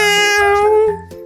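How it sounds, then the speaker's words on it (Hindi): A cat indoors gives one loud, drawn-out meow that rises and then falls away, close and alone. "वहीं कमरे में एक बिल्ली आती है"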